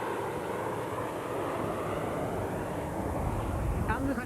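Pratt & Whitney engines of a large bomber roar steadily at an airshow as it accelerates down the runway, a continuous loud broadband rumble with someone speaking over it.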